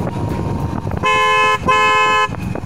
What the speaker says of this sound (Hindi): यहाँ पर हमारा जो दूसरा हॉर्न बजेगा